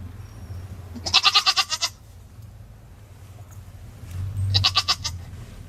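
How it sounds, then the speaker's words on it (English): Two loud, quavering goat bleats a few seconds apart, close by, with quiet background between them. "The goats are going to let you know it."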